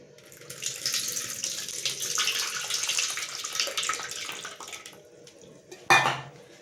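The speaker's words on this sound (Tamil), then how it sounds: "தண்ணியாக கரைச்சி வச்ச ஒரு நெல்லிக்காய் சைஸ் உள்ள புளியை நம்ம கரைச்சி வச்சுக்கிறோம். இதை நம்ம இதில் ஊற்றிக்கலாம்." Tamarind water, made from a gooseberry-sized lump of tamarind dissolved in water, is poured into a pan for a dried fish curry: a steady splashing pour of several seconds, then a sharp clank of the vessel.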